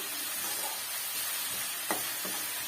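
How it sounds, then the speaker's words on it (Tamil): Onions sautéing in a pan for onion thokku, a steady soft sizzle and hiss with a couple of brief stirring scrapes near the end, no voices. "வெங்காயம் வந்து நல்லா பச்சை வடை போயிட்டு வர வரைக்கும் சுருளை வந்து வதக்கி விட்டுக்குங்க"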